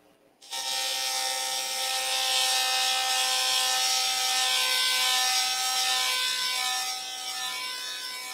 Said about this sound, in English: Let's see what happens if I grind this down